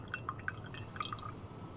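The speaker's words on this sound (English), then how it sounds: "Water drips from the paper as I blindly pick it up and gently lay it on another tray" Water drips from photo paper lifted out of a developing tray in the video game The Letter, a few quiet, distinct drops falling in a loose irregular patter with no talking.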